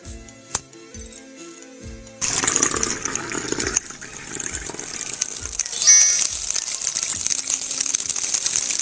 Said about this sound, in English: Pour some water in the bottle.